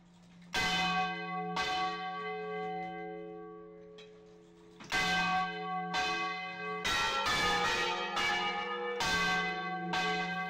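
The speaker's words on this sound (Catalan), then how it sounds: "és el toc manual de campanes" Church bells rung by hand for a town festival, loud ringing strokes in irregular clusters with long resonant decay and brief pauses between peals, no voices.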